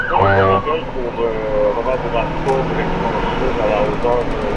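An ambulance siren wails in repeated rising and falling tones at the start, then carries on under steady road and engine noise during a paramedic run on the road.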